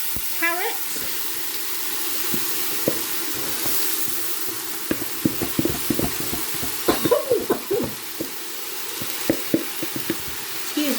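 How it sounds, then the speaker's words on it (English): Chopped apple and carrots stirred into hot oil with mustard seeds, a steady loud sizzle throughout with irregular scraping and popping from the stirring, close up, and a brief voice early on. "All I did was the mustard seeds were in a little bit of oil, which are now attacking me. So I'm going to go in with our chopped apple and our carrots."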